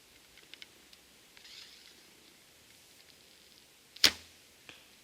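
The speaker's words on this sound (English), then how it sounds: "if I relax my fingers, the arrow will go off" Arrow loosed from a traditional Howard Hill longbow outdoors: a single sharp snap of the string and arrow release stands out against quiet ambience, with faint rustles before and a softer thump shortly after.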